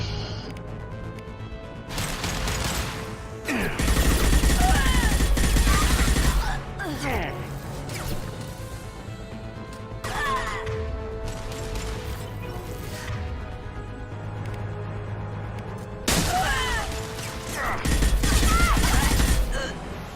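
Bursts of rapid gunfire from a weapon in Mass Effect 2, loud crackling volleys around the three, ten and seventeen second marks, with explosive impacts and battle noise between them and no voices in the clip.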